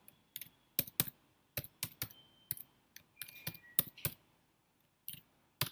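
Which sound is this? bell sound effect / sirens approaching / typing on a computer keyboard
typing on a computer keyboard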